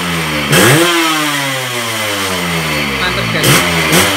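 A Yamaha RX King two-stroke motorcycle with a ported block revs hard, its engine climbing quickly in pitch and easing back, with a couple of short throttle blips near the end, loud and close.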